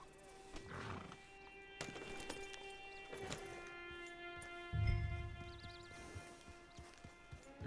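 Horse sounds from the Red Dead Redemption 2 video game. A whinny comes through amid game ambience and music, along with scattered hoof clops and a low rumbling burst partway through.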